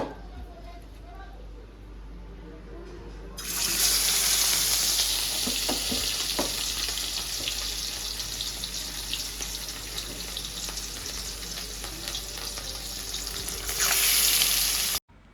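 Cut pumpkin pieces go into hot oil in a home kitchen, setting off a sudden loud, hissing sizzle that holds steady and close for several seconds before cutting off.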